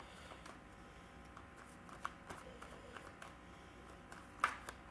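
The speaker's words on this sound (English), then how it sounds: "So Keith, let me pull some cards for you." Tarot-style reading cards shuffled and drawn during an evening reading session, heard as faint, sparse soft slaps and flicks with a sharper snap near the end, quiet and close over a low hum.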